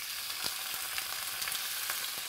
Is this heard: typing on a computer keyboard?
no